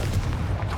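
A Confringo spell explosion in Hogwarts Legacy, a deep, rumbling boom that sustains briefly, loud and close.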